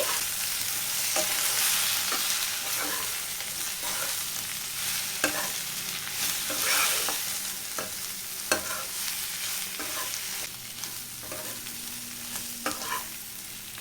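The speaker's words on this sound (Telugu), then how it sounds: "ఇలా మొత్తం బాగా మిక్స్ చేసుకొని ఒక నిమిషం పాటు ఫ్రై చేసుకుంటే సరిపోతుంది" Mutton pieces coated with mutton masala and salt fry in a pan, giving a continuous close sizzle broken by repeated sharp scraping stirs of a spoon throughout.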